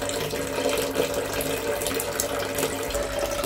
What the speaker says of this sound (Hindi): यहाँ पे बाकेट में पानी भरना शुरू किया मैंने